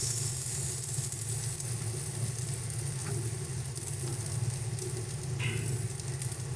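Spice paste sizzles steadily in a pan as it is stirred for a Bengali prawn curry, a constant close frying hiss with faint scraping, loud and unbroken throughout, with no talk.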